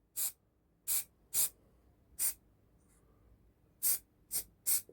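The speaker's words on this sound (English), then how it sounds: "Just aim back there and spray away." Short bursts of aerosol spray paint hissing, seven quick puffs in uneven rhythm with brief silent gaps, close and fairly loud, weathering an OO gauge model train wagon.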